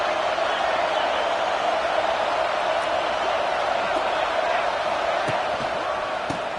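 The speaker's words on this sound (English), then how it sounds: "here comes the noise. This crowd is trying to inspire this defense to make a big red zone stop." Steady roar of a stadium crowd at an Auburn vs. Georgia college football game, fans making noise to push the defense toward a red zone stop, loud and continuous with faint thumps and whoops.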